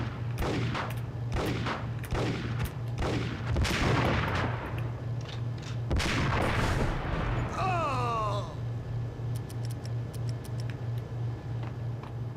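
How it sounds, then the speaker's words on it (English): Gunfire and blasts from the Max Payne video game, a run of loud broadband bangs and bursts spread over several seconds, ending in a fading rumble with descending whistling tones, over a constant low game hum. "it just seemed like an awfully big explosion"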